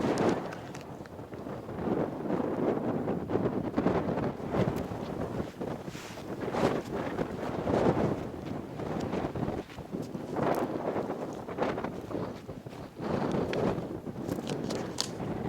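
Strong wind buffets the microphone in the open Petrified Forest badlands, a continuous loud rumbling roar with gusting surges and no voices.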